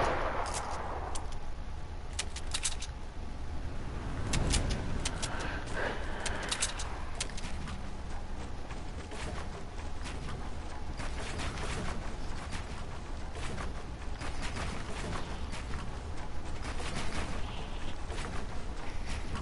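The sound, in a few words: loud gunfire in the video game Fortnite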